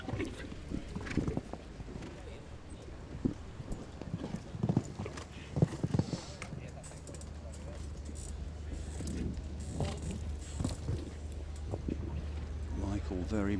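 Hooves of a big, powerful show-jumping horse clip-clop in a steady rhythm through an arena round at the 2013 Nations Cup jumping final, with a commentator talking over them and crowd noise behind.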